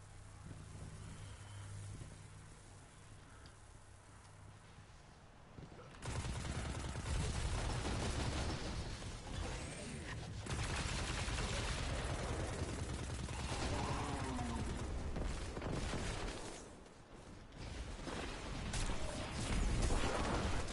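Gunfire in the video game Destiny 2, quiet at first, then sustained rapid shooting and crashing bursts that run loud and continuous for most of the stretch, briefly easing off before picking up again.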